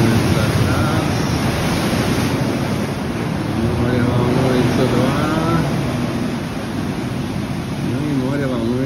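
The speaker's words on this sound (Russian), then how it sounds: "И здесь вот такая вот море волнуется сегодня" Rough sea waves crash and wash continuously at Ponta do Sol on Madeira, a loud, steady roar of surf close by with no talk over it.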